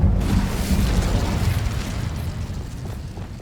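A fiery Incendio spell cast in Hogwarts Legacy, heard as a loud, sustained low roaring burst of flame that holds steady and slowly fades over a few seconds, with no talking.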